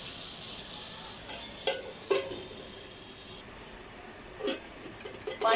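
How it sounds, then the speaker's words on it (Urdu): Tomatoes and spices sizzle softly in a covered pan with no water added. The cooking makes a low, steady hiss broken by a few faint pops and clicks. "اب بغیر پانی کے ہم اس کو ڈھکن ڈھک کے ٹماٹر کو گلنے کے لیے چھوڑ دیں گے"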